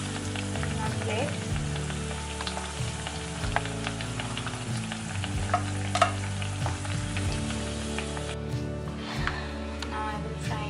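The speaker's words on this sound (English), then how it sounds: "Now I will fry the rest one." Malpua batter frying in a pan, a steady dense sizzle with crackling bursts that runs the whole time, with brief stirring and utensil contact, close and even in level.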